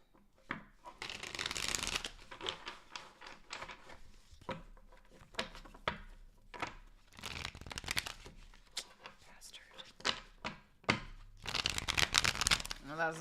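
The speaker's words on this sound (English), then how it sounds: "2 more shuffles for super chats." Tarot cards are shuffled in bursts of riffling and crisp slapping, with pauses between rounds, close and fairly quiet, while a person talks intermittently.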